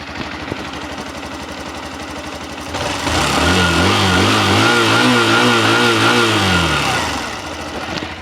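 A Hero Splendor Platina 100cc motorcycle engine runs close by, idling, then revs up for a few seconds with a rising, wavering pitch before settling back to idle.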